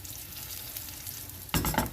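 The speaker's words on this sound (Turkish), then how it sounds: "Biraz daha kızartalım." Steady oil sizzle of zucchini frying with light stirring, then a louder burst of frying and clatter near the end as the zucchini is moved in the pan.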